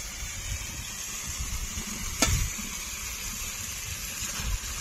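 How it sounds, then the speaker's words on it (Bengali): Pre-fried potatoes tossed into spice masala for a Ritha fish curry, with a brief splashy burst as they land in the pan, then a low bubbling sizzle with stirring scrapes, close up and without speech. "এখন দিয়ে দেবো ভেজে রাখা আলু।"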